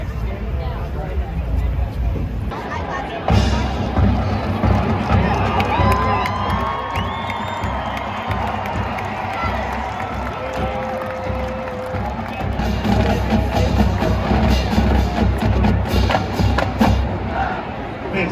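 A crowd at an Indiana University tailgate cheers and shouts, with whoops and children's voices rising over a steady roar of chatter, close and loud throughout.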